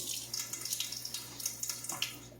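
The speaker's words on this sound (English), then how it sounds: "Rinse my fingers here a little bit, so I'll stick them back in that there bucket" Fingers rinsed in a bucket of water while seasoning a picanha roast, faint close splashing and trickling with a few small sloshes.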